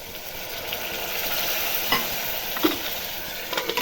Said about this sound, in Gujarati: ચાલો દાળ ચણાની દાળ ને દૂધી સરસ થઈ ગયા તેલમાં